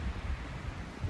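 Wind gusting across a mountain trail on the Appalachian Trail, a steady low buffeting rumble pressing on the microphone for the whole moment, with no voice.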